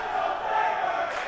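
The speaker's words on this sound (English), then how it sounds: "Shakopee fans, crowd. yeah, they showed up well tonight, and they're cheering for their boys." Shakopee fans cheering at a boys' volleyball match in a gym, a brief loud burst of crowd voices and shouts blended into one sustained roar.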